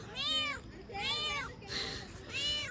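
A cat waiting for a plate of food meows four times in quick succession, each cry drawn out and close to the listener.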